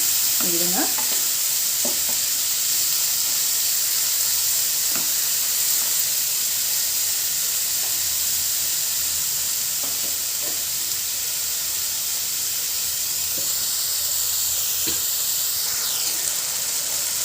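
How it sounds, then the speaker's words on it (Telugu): Finely chopped tomato pieces sizzle and fry in a pan for an egg keema masala, with a steady hiss throughout and intermittent scraping stirs, no voices. "సన్నగా కట్ చేసుకున్న టమాటా ముక్కలు ఇది బాగా మెత్తగా ఇవ్వాలి టమాటా ఈ ముక్కలంతా మెత్తగా చేస్తున్నాము"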